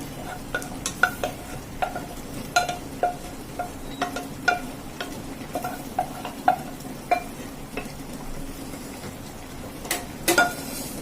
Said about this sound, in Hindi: अब मैं डाल रही हूँ इसमें दाल भी। दाल भी थोड़ी मसाले के साथ ही भुनेगी